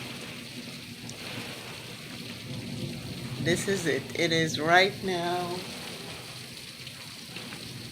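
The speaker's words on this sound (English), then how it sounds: "The rain has come with a vengeance and we are having a stormy afternoon." Heavy rain pours steadily during a Florida afternoon thunderstorm, a dense continuous wash of downpour noise throughout, with a person speaking briefly over it midway.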